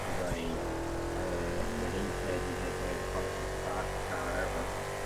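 Steady engine drone of the Comet sports car being driven in GTA 5, a sustained, fairly loud hum at a constant pitch with slight shifts, while people talk over it.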